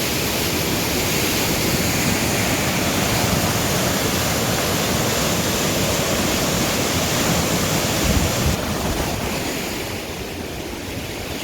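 A local river rushing in flood after five days of continuous rain, a loud, dense, unbroken roar of churning water up close, easing slightly near the end.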